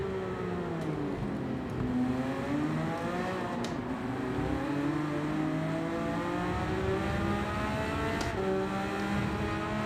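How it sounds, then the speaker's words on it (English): An Audi race car in Gran Turismo 7 screams along a straight, its engine rising through several upshifts in steady sweeping revs, loud and sustained, with a faint background hum and no voices. "The Audi has the speed on the straights."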